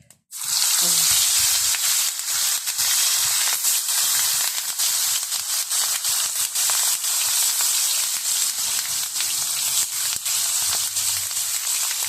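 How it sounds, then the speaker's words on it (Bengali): Pomfret, a sea fish, fries in a pan with a loud, steady, close sizzle that holds throughout and never lets up. There are no voices. "চলেন আগে মাছটা ভেজে লই।"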